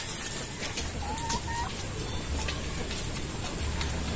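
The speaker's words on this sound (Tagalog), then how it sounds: "ina-handfeed natin yung mga panabong natin kasi laging inaagawan ng mga inahin" Gamecock chickens and hens clucking softly on a farm during hand-feeding, against a constant hissy background, with a couple of brief rising calls heard in the middle.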